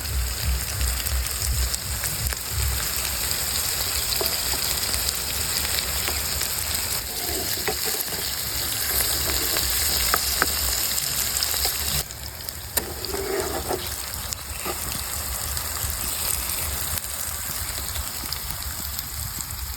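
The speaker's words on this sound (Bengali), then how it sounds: "এবার কষিয়ে রাখা ইলিশ মাছগুলো দিয়ে দেবো" Hilsa fish and water lily stems fry together in a pan, giving a loud, continuous close-up sizzle with a dense crackle like rain and occasional stirring scrapes.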